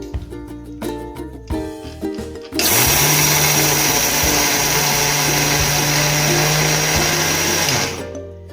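Rice being ground coarsely in a kitchen mixer grinder: after a few clattering knocks, the motor starts with a loud, steady, high-pitched whirring roar that runs for several seconds before winding down.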